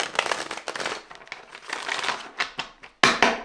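Crisp papery riffling and slapping of tarot cards being shuffled up close, several bursts with brief pauses, ending in a sharper snap.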